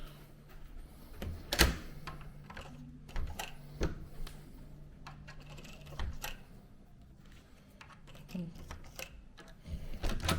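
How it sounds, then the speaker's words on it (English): A key rattles and clicks in the lock of a hotel room door at Forshaws Hotel in Blackpool. The scratchy mechanical taps and knocks come close up and arrive in uneven bursts. "So I'll just get my key out 1 second."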